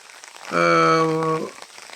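Light rain falls at Vazhani Dam in Kerala, a steady soft hiss of drops throughout, briefly overpowered in the middle by a loud, sustained droning tone that cuts off after about a second.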